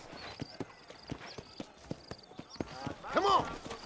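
Galloping horse hooves in the video game Red Dead Redemption Undead Nightmare, a steady run of clip-clop beats rising to a louder, busier burst near the end, with a voice calling out over it.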